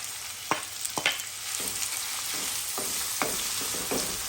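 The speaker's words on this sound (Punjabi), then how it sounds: "ਹੁਣ ਮੈਂ ਇੱਕ ਪੈਨ 'ਚ ਆਇਲ ਪਾ ਕੇ ਇਹਦੇ ਵਿੱਚ ਥੋੜਾ ਜਿਹਾ ਜੀਰਾ ਪਾ ਦਿੱਤਾ ਜੀਰਾ ਦੇਖੋ ਥੋੜਾ ਜਿਹਾ ਸਿਜ਼ਲ ਕਰਨ ਲੱਗ ਗਿਆ" Cumin seeds and red onion sizzle in oil in a pan, a steady bright hiss punctuated by sharp clinks and scrapes of a spoon against the pan at irregular intervals.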